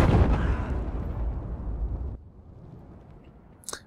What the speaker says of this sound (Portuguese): E aí esse laserzinho faz uma mina explodir